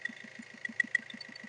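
A 1.5-litre diesel engine in a 2017–2018 Maruti Suzuki S-Cross idles steadily close by, a low regular chugging pulse with a faint high whine running over it.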